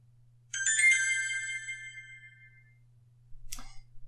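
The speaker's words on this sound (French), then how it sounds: "Je viens de recevoir un SMS de Charlie" A Samsung Galaxy phone plays an SMS notification, a bright chiming tone of ringing harmonics that fades over about two seconds, followed by a short sharp click-like blip, otherwise near silence.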